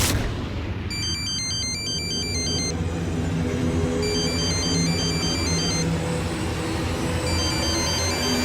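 A phone ringtone chirps in repeated electronic bursts over steady low background noise in an indoor TV drama scene, with no speech.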